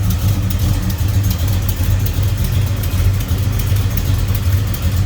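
A 383 stroker V8 with a four-barrel carburetor and headers idles in a 1971 Chevrolet Chevelle Malibu convertible, a steady, loud, close rumble that runs unbroken throughout.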